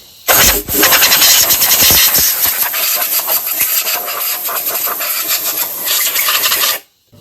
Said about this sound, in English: I'm going to take my air hose and blow it out.